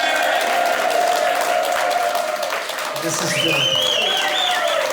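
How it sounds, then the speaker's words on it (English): A crowd at the Depot in Norman, Oklahoma claps and cheers steadily throughout, dense and loud, while someone speaks briefly over the applause. "the crowd at the Depot in Norman, Oklahoma"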